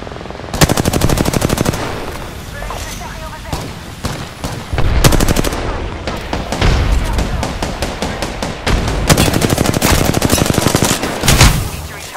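Video game gunfire in a firefight: loud rapid automatic bursts of several seconds each, separated by brief pauses, with team voices calling out over the shooting.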